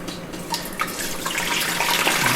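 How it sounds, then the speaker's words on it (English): Hot bone broth pours from a vessel through a strainer into a pot, a steady loud splashing rush of liquid that grows fuller and heavier as the pour continues, with no talking. "very gently pick it up and pour it into what we have here is a pot with a strainer"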